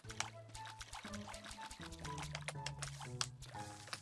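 Water being poured over crops in the voxel farming game Staxel, a steady liquid trickle with soft splashy pulses running over looping game music, with no one talking.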